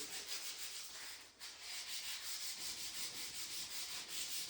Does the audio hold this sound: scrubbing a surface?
yes